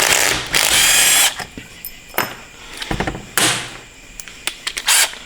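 Power tool spinning out bolts from a 6L80 transmission valve body: short bursts of buzzing whir separated by pauses and small metallic clicks, close up and with no talk.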